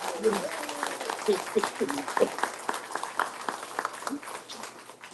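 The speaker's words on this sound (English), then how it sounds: "Let's give these guys a round of applause." Applause for candidates at a chamber-sponsored debate held at a VFW hall, with moderate clapping in a large room and voices talking over it as the clapping fades.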